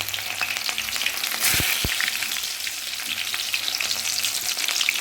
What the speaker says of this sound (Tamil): இப்போ எண்ணெய் கொதிச்சிருச்சு. இந்த எண்ணெயில் முதல்ல வந்து வெங்காயத்தை போடுங்க.